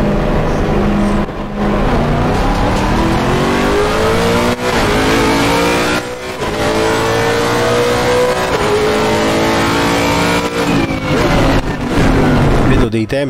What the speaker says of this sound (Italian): però adesso il motore è partito.